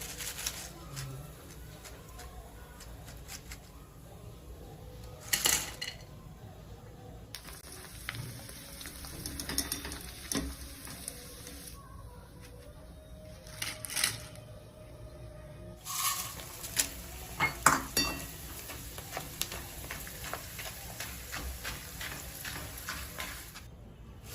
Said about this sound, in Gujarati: આપણે બધા પૌવા તળી લઈશું થોડા થોડા પૌવા આપણે અંદર નાખીને તળી લઈશું